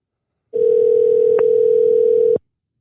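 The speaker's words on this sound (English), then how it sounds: "let's get into another phone call" A telephone dial tone sounds as a call begins: one steady, loud, pure hum that starts abruptly, holds for about two seconds with a faint click midway, then cuts off into silence.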